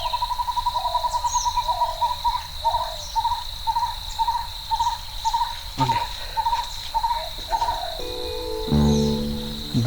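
Repeated hooting calls and steady insect trilling fill a quiet forest on Yanaimalai hill near Nagercoil, with a few other bird calls scattered through.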